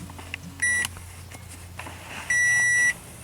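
A 2013 Toyota Camry Hybrid powering on gives two clear electronic start-up beeps, a short one followed by a longer tone, over a quiet cabin hum.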